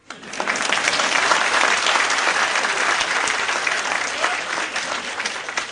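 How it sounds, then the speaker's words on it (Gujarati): An audience claps steadily and fairly loudly for several seconds, a thick roar of hands that begins abruptly and holds throughout. "તાળી પાડો વાંધો નહીં."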